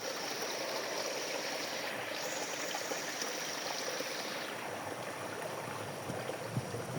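Spring water flows at its natural source as a steady, fairly faint rushing and trickling, continuous throughout with no voices.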